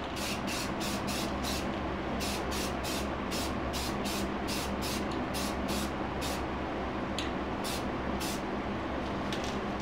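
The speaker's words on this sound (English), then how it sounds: "So what I'm going to do just for a test is I'm going to prime, coat of gold clear" A rattle can of spray paint primes wheel rim center caps in a long run of short, regular hissing bursts that keep going close by.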